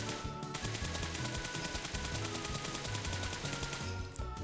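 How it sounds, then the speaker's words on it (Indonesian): Rapid hip-fire gunfire in PUBG Mobile on the New Erangel 2.0 map, shots fired without a scope as a dense, continuous burst with loud in-game music or ambience running throughout. "Hip fire speed itu di saat kita nembak tanpa scope kayak gini."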